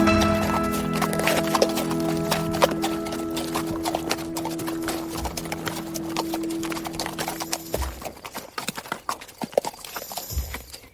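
A horse clip-clops along a fairground track in Great Barrington, Massachusetts, its hooves loud and close with a steady rhythm that turns sharper and more uneven toward the end, with no talk.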